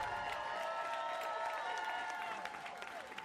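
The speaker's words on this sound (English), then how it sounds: "This is what I hear every morning when I go and get ready for work. The applause of everyone." Recorded cheering and applause from a crowd plays during a Slay the Princess game stream, a steady wash of clapping and voices layered with tonal sound effects, moderately loud and fading slightly near the end.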